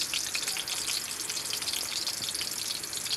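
Onion sautéing in hot cooking oil, a bright, continuous hiss and crackle close to the pan, steady throughout with no voices.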